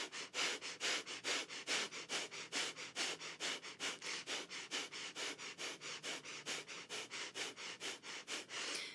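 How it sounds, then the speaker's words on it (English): Rapid rhythmic breathing during a priming breathwork exercise, a steady series of about thirty quick, forceful sniff-like breaths close to the microphone, loud and evenly paced with no talking. "Third and final round of breath,"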